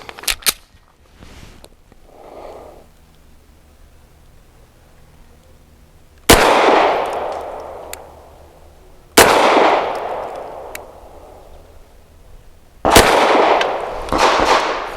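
Three sharp, loud pistol shots from an American Precision Firearms Strike One firing Blazer Aluminum 115 grain ammunition, widely spaced with echoing decay, preceded by quieter metallic clicks and handling noise.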